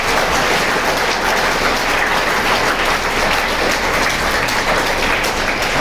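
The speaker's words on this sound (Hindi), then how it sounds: "तो बजाओ भाई, ताली बजती है एक बार।" An audience at a school event in Jaipur breaks into dense, sustained clapping that fills the room evenly for several seconds, loud and unbroken, with no talking over it.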